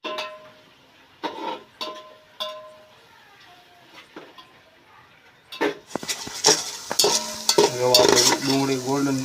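Onion fries in oil in a pan, quiet at first with a few short tonal sounds, then a close, loud sizzle with clattering utensil stirs against the pan.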